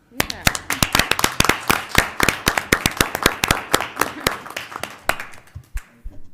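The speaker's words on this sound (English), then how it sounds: "he deserves a great round of applause" Crisp, distinct hand claps at a city council special meeting ring out in a quick, steady rhythm, like a small group applauding, slowing and thinning out near the end.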